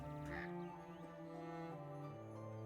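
A quiet, sustained cry from a bird in a video game, a drawn-out tonal call that holds steady for a couple of seconds under a soft background.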